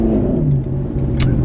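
A Maserati's engine revs loudly and steadily up close during a short drive, a dense mid-pitched roar that holds for about a second and a half.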